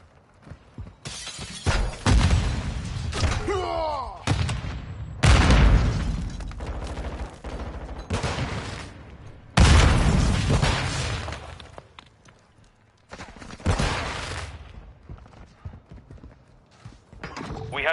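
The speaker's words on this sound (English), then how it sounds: "Saber One, set a charge on the target and detonate it." A demolition charge detonates on its target in a tactical shooter game, heard as several loud booming bursts with clattering debris, separated by short pauses, with voices talking in between.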